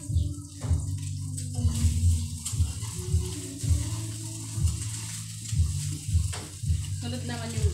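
An egg frying in a pan on a home stove for breakfast, giving a steady close sizzle with a few soft bumps and scrapes as it is turned over.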